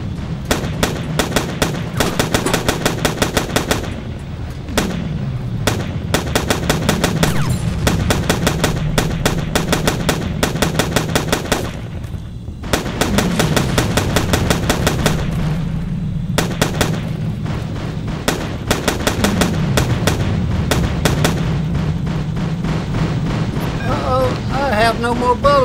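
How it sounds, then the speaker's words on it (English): Video game gunfire: dense, loud rapid bursts of automatic fire crackle almost continuously, broken by brief pauses and heavier booming impacts, with a voice speaking over the shooting. "What are they shooting at?"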